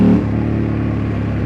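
A loud 2003 Ducati Monster 916 S4 motorcycle engine revving and droning steadily, close up, with no talking.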